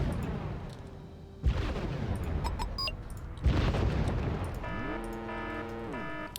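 Gunfire and artillery in the war strategy game Wargame Red Dragon: loud heavy booms and blasts in a dense, rumbling battle din, with sharp impacts and a rising mechanical tone near the end.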